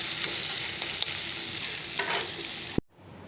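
Bitter gourd and pointed gourd fry in a pan with a dense, even sizzle and a few faint stirring scrapes, cutting off abruptly just before the end.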